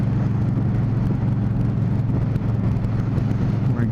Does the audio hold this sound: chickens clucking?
no